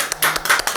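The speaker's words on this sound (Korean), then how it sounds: "우리의 기도를 들으시고 일하실 주님께 영광의 박수 올려드리도록" A church congregation at a Korean worship service gives a brief burst of applause, fast overlapping claps that are close and lively.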